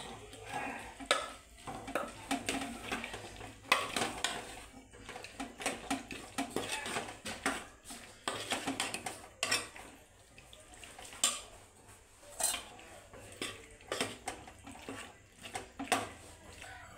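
Pressure-cooked chickpeas for chhole masala are sautéed in a pan, with repeated close scrapes and metallic clinks of a spoon stirring them in irregular bursts. A faint sizzle sits underneath and no one speaks.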